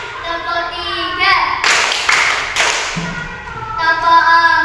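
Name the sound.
children clapping hands in a counting clap game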